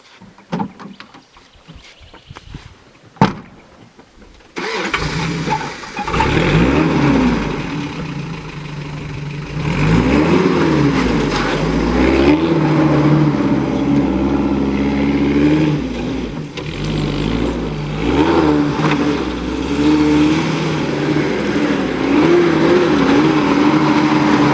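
A Toyota Land Cruiser engine at a 4WD park cranks and catches after a few faint clicks. It then runs loud and close off-road, rising and falling as the throttle is worked.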